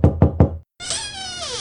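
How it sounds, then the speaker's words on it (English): Three firm, evenly spaced knocks on a door sound up close, followed by a brief silence and then a bright, drawn-out meow-like tone. "I knocked on the door."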